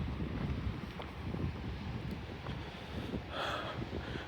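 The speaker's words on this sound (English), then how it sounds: "The wind is just super fierce." Strong, fierce wind roaring steadily at a mountain fire lookout tower in New Mexico, buffeting the microphone with low rumbling gusts, continuous and loud with no voices.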